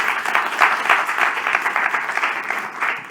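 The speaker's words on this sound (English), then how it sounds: "Another round of applause for Marcel." A symposium audience applauds a psychologist speaker: a full, even round of clapping from the crowd, loud and sustained throughout with slight swells and no speech on top.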